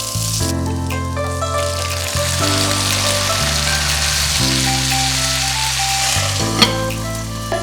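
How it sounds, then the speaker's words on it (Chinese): Chicken sears in a clay pot with a loud, continuous sizzle and spatter, while steady musical tones play underneath. "我的砂锅，我们先煎鸡好不好"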